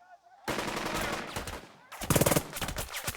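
Soldiers return fire in the Burden of Command war game, with a sustained crackle of rifle and machine-gun shots followed by a louder rapid burst of automatic fire, close and sharp.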